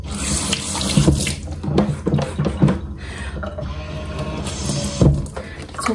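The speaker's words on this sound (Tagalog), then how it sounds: "Hugas muna ako ng kamay." Hands are washed under a running tap at a sink in Japan, with water gushing and splashing steadily and louder splashes as the hands move in the stream.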